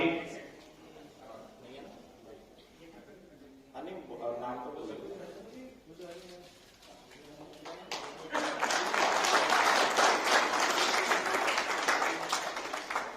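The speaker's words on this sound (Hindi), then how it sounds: "आपने तालियां बजा दी, आपने शोभा और बढ़ा दी कार्यक्रम की" Audience applause swells at a Rajasthan community ceremony honouring talent alongside a blood donation camp, loud dense clapping building over the last five seconds after someone speaks over a PA.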